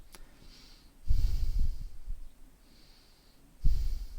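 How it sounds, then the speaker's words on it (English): Exaggerated breathing into a Creative Sound BlasterX H6 gaming headset microphone with voice clarity processing on: two loud, close, rushing breaths separated by a quiet pause, with no talk. "Now let's hear some a little bit over-exaggerated breathing"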